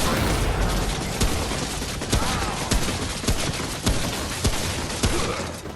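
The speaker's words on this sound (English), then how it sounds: "I've got that machine gun turret mod going, which feels surprisingly OP" Machine gun turret firing in the action game Remnant: From the Ashes on PS5, a dense, noisy barrage with sharp shots punching through at a steady rhythm, loud and continuous with no speech.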